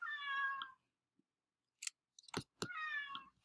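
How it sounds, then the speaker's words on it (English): A house cat meows in two drawn-out, strained cries, close and loud, with a short gap of faint clicks and thumps between them and no talking. "I don't know if you can hear my cat, but she is losing her mind"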